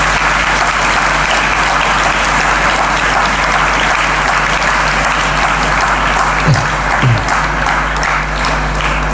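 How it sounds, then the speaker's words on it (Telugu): Sustained, steady applause from an audience at a motivational speech by film actor K V Pradeep, clapping for mothers; dense and loud throughout with no pause, a couple of brief louder bumps near the end. "ఒక్కసారి చప్పట్లు కొట్టండి అమ్మకి."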